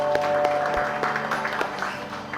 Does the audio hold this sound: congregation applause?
yes